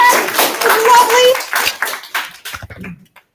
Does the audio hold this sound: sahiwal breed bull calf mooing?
no